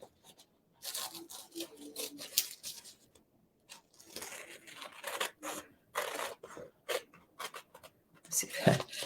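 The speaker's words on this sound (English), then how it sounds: "take a pair of scissors and cut that out" Scissors snip through washi paper for a collage piece in a series of close, irregular crisp cuts and rustles separated by short pauses, with quiet talking in between.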